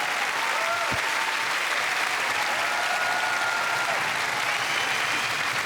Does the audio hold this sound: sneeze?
no